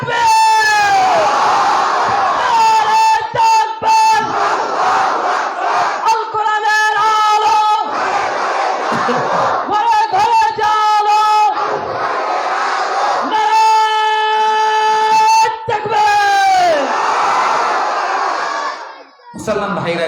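A large crowd loudly chanting Allahu Akbar in repeated, rising collective shouts, with brief gaps between chants and sustained voices blending into a powerful roar.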